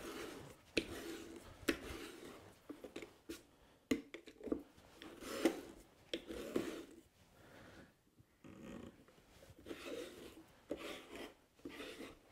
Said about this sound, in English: this reamer is just a great little tool. Okay, let's finish this hole up.